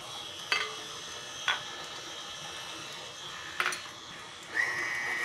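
Butter being creamed in a mixer with granulated and light brown sugar for a coconut dessert, a steady whirring hum with a few sharp clicks and knocks against the bowl.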